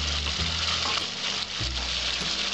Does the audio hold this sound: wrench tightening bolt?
no